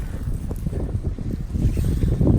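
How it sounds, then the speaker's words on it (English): Cold wind gusting hard against the microphone on an outdoor walk, a loud rumbling buffet that swells and dips without a break and no voices. "it is windy and it's getting cold"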